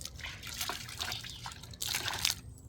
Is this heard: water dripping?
yes